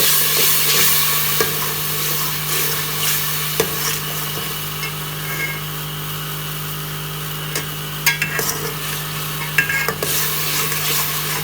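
Onions with salt and black pepper fry in a pan for plain moong dal khichdi, a steady close sizzle punctuated by occasional spoon scrapes and stirring clicks, with no talking.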